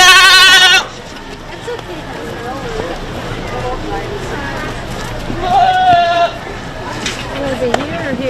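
Pygmy goats bleat at a junior livestock show: one loud, drawn-out bleat at the start and another mid-clip, with fainter calls amid crowd noise and people talking.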